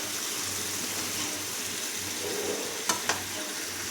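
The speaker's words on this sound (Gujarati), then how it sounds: "અને બરાબર હલાવી દઈએ ગ્રેવીને" Potato curry gravy is stirred in a pan, a dense steady sizzle and bubbling wash with two quick clinks of the spoon against the pan near the end.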